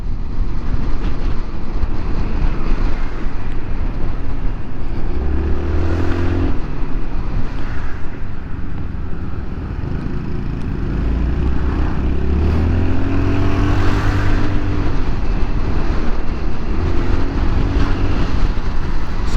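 A powerful motorcycle engine revs hard and close while overtaking traffic on a morning road ride, its pitch climbing and falling in surges over a steady loud roar.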